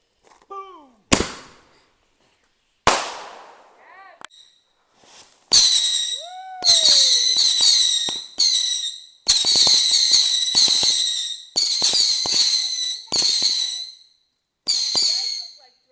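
Fireworks go off outdoors in a rapid series of loud sharp bangs and crackling bursts, some with whistling rises, separated by short pauses early on and then coming in dense clusters.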